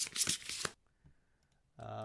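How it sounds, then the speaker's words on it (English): Playing cards riffled together at a tabletop session of the Kingdom Death: Monster board game, a single quick papery burst at the start that stops abruptly, followed by quiet and then a low humming tone. "we will shuffle everything back in"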